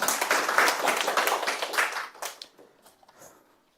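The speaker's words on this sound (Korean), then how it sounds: "한 박수 부탁드리겠습니다" A small audience at a robotics school team project presentation gives brief, moderate applause for the presenting team. The clapping tapers off into a few scattered claps after about two seconds.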